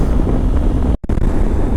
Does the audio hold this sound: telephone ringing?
no